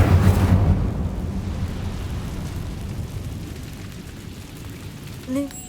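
Incendio fire spell cast in the Hogwarts Legacy game: a loud fiery burst at the start that fades into a long roaring, crackling rumble, with a faint short chime near the end.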